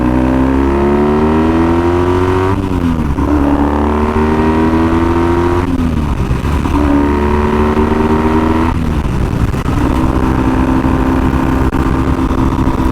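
A Triumph T140 motorcycle engine revs up steadily on a dual carriageway, its pitch climbing through several gear changes, loud and close with constant road noise underneath.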